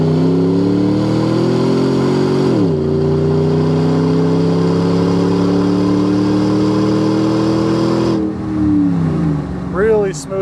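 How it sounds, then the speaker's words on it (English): A 2007 Dodge Ram 1500 with a 5.7 Hemi V8 and 32K miles accelerates on a test drive, its engine note rising steadily through two gear shifts, loud and close from inside the cab. "Warmed up here, let's roll into it some, test out the Hemi."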